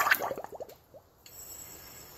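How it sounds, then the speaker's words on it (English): Water is sucked up into an upturned glass jar after matches burn out inside, making a quick series of gurgling, bubbling glugs that fade within about a second, then quiet. "the hot air cools and sucks in a bunch of water and fills it up"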